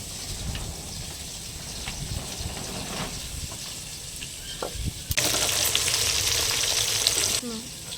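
Catla fish fries in hot oil with a steady, close sizzle that swells into a louder, brighter crackle for a couple of seconds before dropping back.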